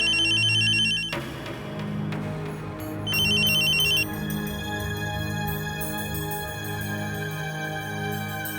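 A telephone ringtone chirps in brief high bursts, once at the start and again a few seconds later, over a steady bed of dramatic background music in a television drama scene.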